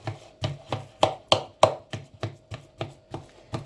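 A knife chops ingredients for a dough on a board, about a dozen crisp, evenly spaced strikes in a steady rhythm, close and clear with no voices.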